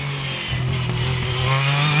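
Tom New's V6 Bilbein hillclimb race car at Loton Park, braking hard from about 120 mph for a 90-degree left, gives a loud, close, sustained engine drone with a buzzing harmonic tone that holds steady and swells slightly toward the end.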